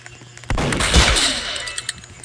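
A sudden loud burst of game gunfire with a booming thud, followed by a decaying rumble and a few scattered smaller pops.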